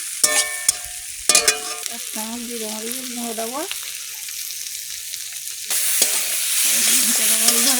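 Egg bhujia frying in a pan gives a steady sizzle while a utensil stirs it with short scraping strokes. A tonal, voice-like sound rises briefly partway through, and the sizzle grows louder near the end.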